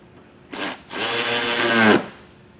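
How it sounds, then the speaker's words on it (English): A power tool drives a 7mm trim piece bolt on a 2022 Ford Bronco Sport, one short whir followed by a longer steady whine that rises in pitch before cutting off, close and loud. "We'll go ahead and reinstall our 4 7mm bolts that held this trim piece down."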